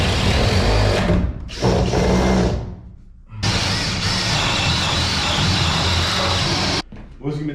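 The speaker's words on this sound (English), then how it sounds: "I was conscious of the fact that I was drilling toward my arm" A power drill bores holes during a PEX-A water line installation, running in loud sustained whirring bursts with short pauses between them and a brief restart near the end.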